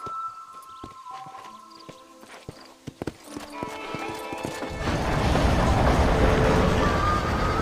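A horse in the video game Red Dead Redemption clip-clops at first, then breaks into a gallop that becomes a dense, steady rush of hoofbeats and wind noise.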